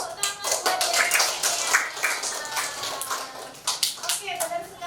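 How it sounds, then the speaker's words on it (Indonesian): A school class claps for a student, scattered uneven hand claps from a small group of pupils, fairly close, with a teacher's voice talking over part of it. "tepuk tangan buat Yeremia"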